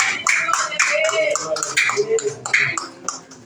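Clapping in a church service, a series of distinct rhythmic claps from a few people at close range, fading slightly toward the end.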